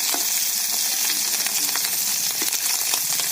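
Small mourola fish fry in hot oil in a pan, giving a dense, steady sizzle with sharp spitting crackles scattered throughout, close and loud, with no talking.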